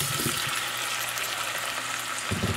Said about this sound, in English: I just want to saute that in here. Now you want to do this over a low heat because you don't want it to burn.